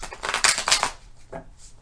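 A deck of tarot cards is shuffled in a few quick riffling bursts, close and crisp, followed by a shorter softer flick.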